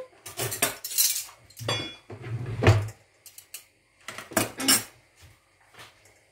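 Margarine is stirred into couscous in a pot with a utensil, making a series of clinking, scraping strokes in irregular bursts. The strokes are close and fairly quiet, with short gaps between them.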